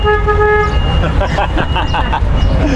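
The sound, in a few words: car horn honking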